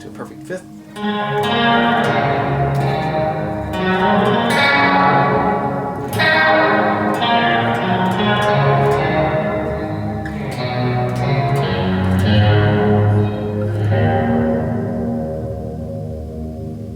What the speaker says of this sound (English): Let's put this to a perfect fifth.